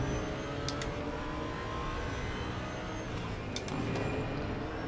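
Audi R8 LMS race car in RaceRoom at Road America, engine droning steadily and loudly throughout with a constant mechanical whir and no clear gear changes.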